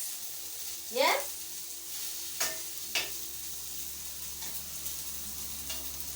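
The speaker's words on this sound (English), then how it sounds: "We are not deep frying. We are just pan frying." Meatballs shallow-fry in a pan with very little oil, giving a faint, steady sizzle broken by a few sharp clinks and scrapes of a utensil turning them.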